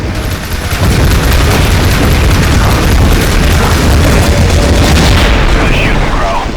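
Aircraft machine guns strafing enemy ship decks in the Heroes of the Pacific combat flight game, a loud, dense roar of rapid fire and booming impacts that runs almost continuously.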